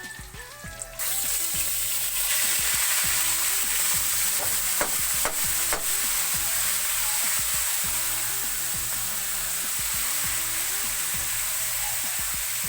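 Bitter gourd being stirred in a pan with garlic and onion, frying with a steady loud sizzle throughout and repeated scraping, clattering strokes of the spoon against the pan, no talking.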